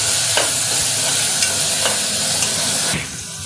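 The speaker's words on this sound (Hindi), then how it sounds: "अब मैंने जो ये छोटा टमाटर लिया है वो अब डालेंगे और अच्छे तरह से मिक्स कर देंगे।" Chopped tomatoes are stirred into hot oil for rajma masala, giving a steady, close sizzle with a few spoon scrapes against the pan before the frying noise drops away near the end.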